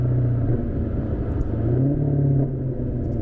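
A Maserati engine drones low and steady while cruising with the convertible top up, a rich, throaty rumble that swells slightly near the middle and ends without voices.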